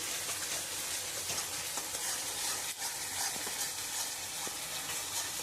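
Chicken ball gravy sautés in a pan with a dense, steady sizzle and continuous stirring scrapes, loud and close throughout, with no voices.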